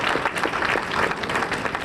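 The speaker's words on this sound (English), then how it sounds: "give a round of applause to our caterers" Applause for the caterers at a rural life conference luncheon fills the room, a steady dense clapping from a seated crowd lasting about two seconds without pause.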